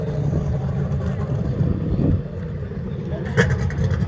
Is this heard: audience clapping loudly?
no